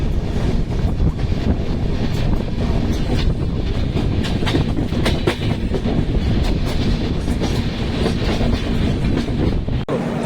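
The 18030 Kurla Express passenger train rumbles along, its cars rattling with repeated clickety-clack beats and heavy low-end roar, buffeted by wind noise on the microphone.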